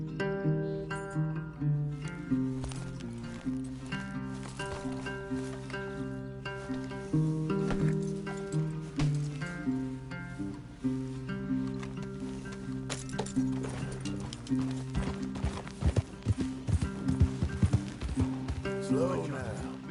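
Horse hooves clip-clopping in a PS4 video game, a steady rhythmic trot under music and game dialogue, with sharper hoof hits toward the end.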